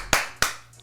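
Two sharp, isolated clap sound effects about a third of a second apart, close and crisp with quick decay, heard alone.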